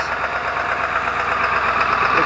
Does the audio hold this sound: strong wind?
no